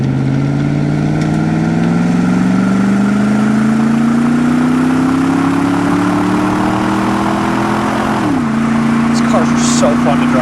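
A 1999 Pontiac Firehawk with a 5.7 L LS1 V8 and automatic transmission pulls hard, its loud, close engine drone climbing steadily in pitch before a quick dip as the gearbox upshifts, then settling into a steady note.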